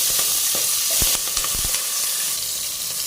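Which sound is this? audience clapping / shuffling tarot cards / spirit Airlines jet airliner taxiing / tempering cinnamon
tempering cinnamon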